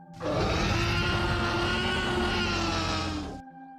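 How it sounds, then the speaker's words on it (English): A T-Rex roar from Jurassic Park, built from recordings of mating tortoises: one long, loud, rasping roar with a steady growling tone, sustained for about three seconds and then cutting off abruptly, with no other sound around it. "the terrifying roars of the T-Rex in Jurassic Park are actually the sounds of tortoises mating"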